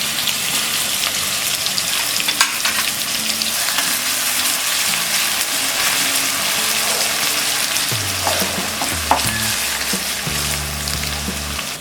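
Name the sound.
garlic, ginger and green chili frying in a pan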